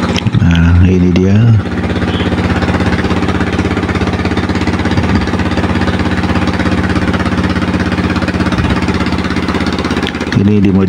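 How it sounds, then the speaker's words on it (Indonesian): Rice-milling machine mounted inside a modified oplet minivan, running as a loud, steady mechanical drone with a rattling, jackhammer-like texture that continues unbroken throughout, with a brief voice near the start and end. "Ini dimodifikasi opletnya untuk menjadi mesin padi."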